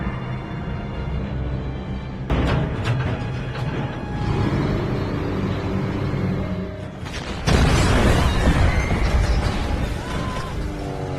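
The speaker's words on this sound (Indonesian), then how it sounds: "Hingga tiba-tiba, bom-bom mulai berjatuhan dari langit." Bombs exploding in a war film scene, dense rumbling booms and crashing blasts filling the whole stretch, with a heavier burst near the end.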